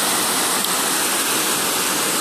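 Steady, dense roar of a waterfall at Chet Sao Noi National Park in Saraburi, Thailand, a close, unbroken wash of falling water with no voices.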